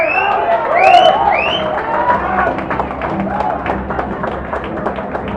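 A crowd at a 9-ball pool match erupts after a ball is potted, cheering and clapping loudly at first, then settling into a sustained murmur of applause and voices.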